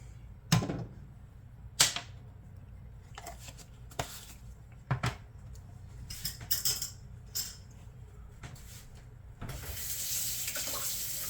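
A kitchen tap runs while a tablespoon is rinsed during wing breading prep, with faint splashing, soft clinks of the spoon and a steadier rush of water at the end, all quiet and close, with no talking.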